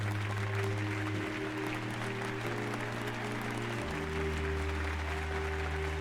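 Applause from an in-game crowd in Final Fantasy XIV: Dawntrail, a dense, steady wash of clapping that holds at an even level throughout, layered over sustained musical tones from the game's score.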